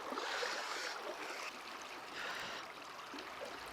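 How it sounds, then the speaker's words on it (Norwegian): Strong main current of a river rushing past, a steady broadband roar of fast water that stays loud and close without a break, with no talk over it. "Veldig sterk strøm"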